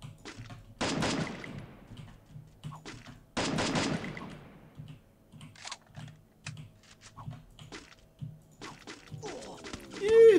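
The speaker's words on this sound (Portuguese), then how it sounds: "Tem cara me atirando ali." Gunfire rings out in a shooter video game played on a PC emulator, two loud bursts of rapid automatic fire up close amid steady keyboard clatter and mouse clicks, with a sharp electronic tone at the end.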